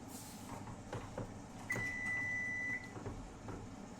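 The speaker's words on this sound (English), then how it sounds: "It's oven beeping that it's up to 350 degrees." An oven preheated to 350 degrees gives a single steady electronic beep lasting about a second over a quiet kitchen hum.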